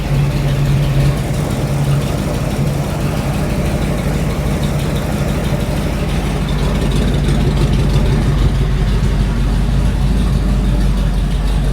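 A custom rat rod build car engine idles steadily during its first timing run, a constant low, throaty rumble heard close and loud with no talking over it.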